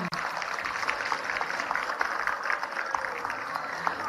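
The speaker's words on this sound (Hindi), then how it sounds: "जब पुरस्कार मिलता है तो तालियां बजनी चाहिए" Audience at an award ceremony claps continuously, with a steady patter of many hands and a few sharper individual claps standing out.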